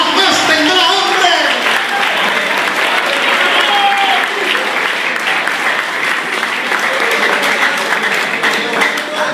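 A church congregation applauds loudly and steadily throughout, a dense wash of many hands clapping at once, with a voice calling out over the clapping at times.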